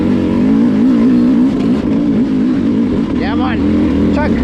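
A 2-stroke hard enduro dirt bike is ridden in second gear, its loud engine droning close and wavering with throttle changes, rising briefly near the end, while a rider talks over it.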